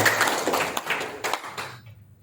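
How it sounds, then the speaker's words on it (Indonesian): An audience at a public hearing on forming a new regency breaks into a short burst of dense clapping indoors, fairly loud and close, fading out after about two seconds. "Coba tepuk tangan."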